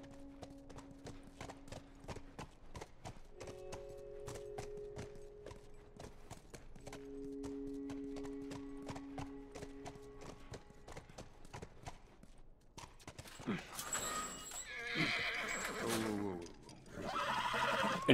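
Steady clip-clop of horse hooves plods along under a low droning backdrop in The Last of Us video game, then a loud horse whinny and snort break out near the end.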